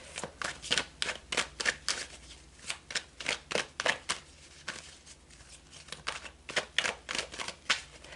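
Tarot cards being shuffled by hand, a run of crisp riffling bursts repeating in a steady, uneven rhythm, close and fairly quiet with no talk.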